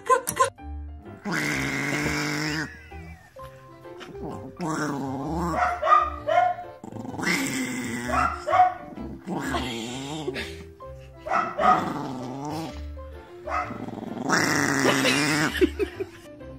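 A chihuahua barks and growls in repeated loud bursts, with short pauses between outbursts and no talk over it.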